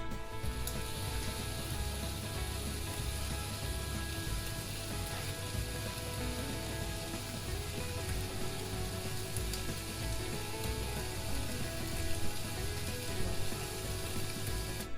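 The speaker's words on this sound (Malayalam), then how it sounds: "മുരിഞ്ഞു വരുന്ന ശബ്ദമൊക്കെ ഉണ്ട് കേട്ടോ" A large whole fish sizzles on a Tefal electric grill under a closed lid, giving a steady, dense hiss and crackle that is continuous and moderately loud with no one talking.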